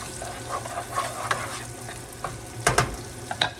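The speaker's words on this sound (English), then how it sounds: "we're just going to mix it around" Turkey and vegetables being stirred in a hot pan, with a steady sizzle of frying under a few scraping spoon strokes, louder clatters near the end, no talking.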